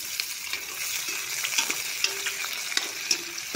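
Onion, garlic and green chilli fry in a pan with fenugreek seeds for a pumpkin, potato and chickpea curry, a steady bright sizzle with faint stirring clicks and scrapes, close and without talk.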